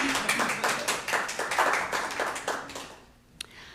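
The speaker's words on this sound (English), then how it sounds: "we should applaud" Applause from a small audience at a jazz performance, a burst of overlapping claps that thins out and stops near the end, with one last faint tap.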